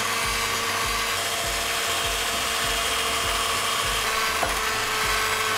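Egg whites and sugar whipped until creamy for boba milk tea tres leches cupcakes, a steady motorized mixer whirring with a regular rhythmic thump from the beaters, continuous and fairly loud throughout.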